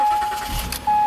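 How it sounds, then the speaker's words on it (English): An Acura MDX engine starts after a fault repair: a short cranking burst catches quickly, and a steady electronic chime tone sounds before and after. "Car starts normally."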